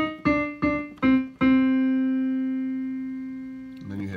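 Trumpet plays measure 9 of a piece: four short tongued notes on one pitch, the last held and slowly fading, close and clear, with a brief other sound at the end.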